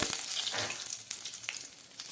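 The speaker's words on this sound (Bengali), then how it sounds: "দিয়ে দিচ্ছি একটু জিরে ফোড়ন" Cumin seeds and extra oil crackle and sizzle in a hot pan where fish was just fried, a bright steady hiss close up with a few small pops, no talking.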